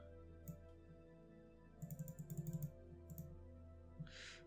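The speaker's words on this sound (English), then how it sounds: "just hitting U on the keyboard" Keyboard key presses while editing in After Effects: a single tap, then a quick burst of several clicks around the middle, a couple more taps and one last tap, all close and fairly quiet.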